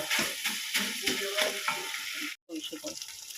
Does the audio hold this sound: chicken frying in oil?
yes